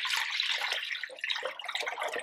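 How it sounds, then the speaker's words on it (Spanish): A gallon of water, about four liters, pours into a large pot for agua de Jamaica, making a steady rushing splash with no one speaking. "Le voy a agregar todo el agua."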